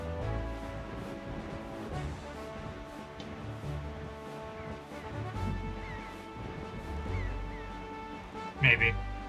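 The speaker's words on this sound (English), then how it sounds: "There's a lot of seagulls there." Seagulls call in The Legend of Zelda: The Wind Waker, a string of short squawking cries repeating over a steady game soundscape, with a louder burst of calls near the end.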